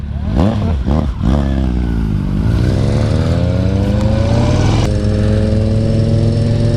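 A loud Kawasaki Z900 motorcycle engine revs a few times near by, then settles into a deep, rumbling exhaust idle.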